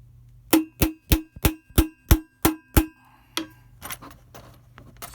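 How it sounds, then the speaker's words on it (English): A heavier hammer drives button snaps into a Biltwell Gringo helmet with eight evenly spaced, ringing metallic strikes up close, followed by a few scattered softer knocks and handling noises. "Maybe just heavier hammer."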